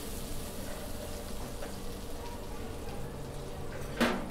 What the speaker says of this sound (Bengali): আমরা মিনিট কি দুই মিনিট ভাজবো একটু নরম হওয়ার জন্য